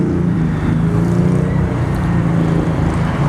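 A 1995 Mercedes-Benz S600 sedan cruises along with a steady, low, smooth engine and road hum heard from inside the cabin, constant and unbroken, with no voices.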